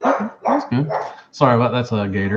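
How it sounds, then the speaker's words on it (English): Pet dog barking indoors, a few sharp barks heard close up and mixed in with someone talking over them. "That's my dog."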